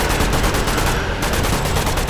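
Rapid machine gun bursts rattle loud and close in the VR shooter Metro Awakening, a dense continuous stream of shots with no pause.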